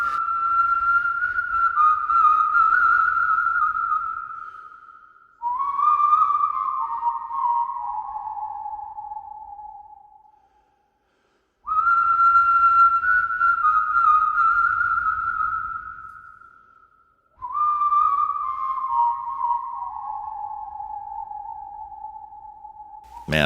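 A clear, loud whistled melody in long sustained phrases, each held note sliding downward, repeated twice with a brief pause between.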